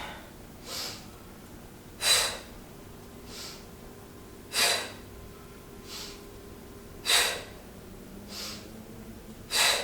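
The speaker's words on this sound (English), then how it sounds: "Inhale, you can do Pilates breath here if you'd like" Forceful Pilates breaths during an intermediate core workout, sharp nasal exhales recurring about every 1.3 seconds and alternating stronger and softer, close and clear over a faint steady background hum.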